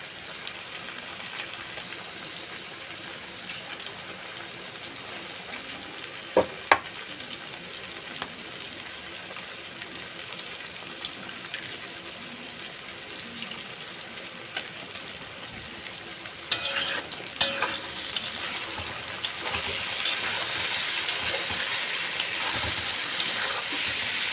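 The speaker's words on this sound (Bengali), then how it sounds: "এবার দেবো ডিম ভেঙে দিয়ে দেবো।" Steady hiss of an egg frying in oil with okra and onion, with occasional scraping knocks from stirring, and a louder, brighter sizzle rising near the end.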